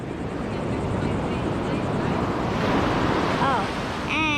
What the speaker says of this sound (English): Oh, and there's so much big waves.